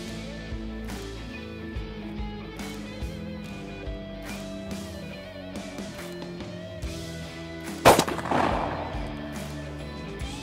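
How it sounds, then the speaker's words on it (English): A 20 gauge shotgun loaded with number nine turkey loads fires one sharp blast outdoors during pattern testing, heard after steady background music and followed by a short decaying rumble. "Fire in the hole."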